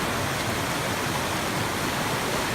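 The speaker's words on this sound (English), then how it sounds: "small gorge with creek and water flowing" Creek water rushing steadily through a small gorge along the Inca Trail to Machu Picchu in Peru, a constant broadband roar that stays even and close throughout with no breaks.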